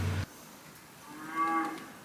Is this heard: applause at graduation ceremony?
no